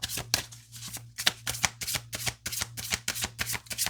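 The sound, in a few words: shuffling tarot and oracle cards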